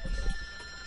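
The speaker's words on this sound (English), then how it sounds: "My phone is ringing." A phone ringtone plays for about a second, a steady electronic tone sitting over low background rumble, fairly faint and without talk.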